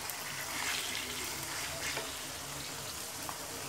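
Chicken hitting hot oil with fried garlic in a karahi pan gives a continuous, even sizzle and crackle, steady throughout and alone with no voices.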